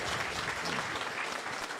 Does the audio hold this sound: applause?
yes